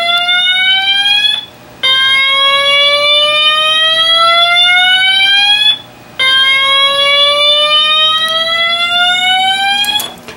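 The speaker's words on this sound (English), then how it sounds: "This is set on slow whoop right now, obviously as you can hear it." A loud electronic alarm siren sweeps slowly upward in long whoops, three rising cycles separated by brief pauses, steady and close.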